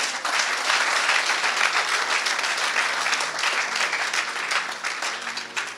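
A church congregation applauding in praise of the Lord, a dense, sustained wash of many hands clapping at steady loudness throughout, with faint voices mixed in.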